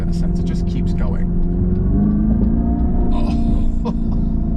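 A 2025 Dodge Charger Daytona Scat Pack electric car accelerates with a steady, rising synthetic drive tone like a CVT, a continuous rumbling hum heard from inside the cabin under loud nearby talk.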